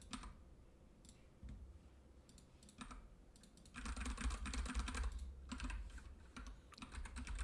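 Typing on a computer keyboard while coding a message field, steady clicking keystrokes in bursts with a denser, louder stretch midway, close and alone with no talk.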